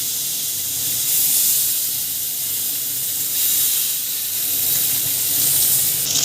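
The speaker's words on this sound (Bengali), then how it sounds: "এবারে আমি মাছগুলি ভেজে নেব" Small tangra fish frying in a little oil in a pan, a steady, loud, close hissing sizzle that swells and eases slightly, with no voices.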